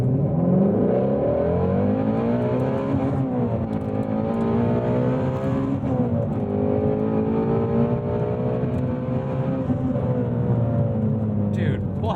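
A 2018 Ford Mustang Shelby GT350R V8 pulls hard, its engine note rising in a loud, continuous sweep as it accelerates through the revs, close and dominant from start to finish.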